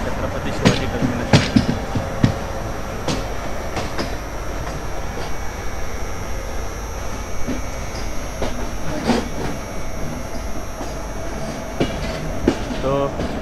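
Indrayani Express train 22106 pulls into Mumbai CST, with a steady rolling rumble under sharp, irregular clanks and clicks of the wheels over rail joints. Some faint squealing comes in near the end as it slows, with no talking heard.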